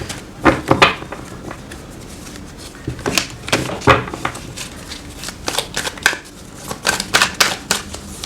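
Tarot cards being shuffled and drawn, heard as close, loud bursts of riffling and slapping card sounds in irregular clusters with short pauses between them, no talking.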